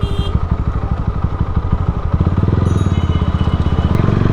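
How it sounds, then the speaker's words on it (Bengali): A Lifan KPT 150 ABS motorcycle is ridden, its engine thumping steadily and loudly up close, the pulses quickening slightly as it pulls along. "it's the first time I am riding KPT and it's ABS"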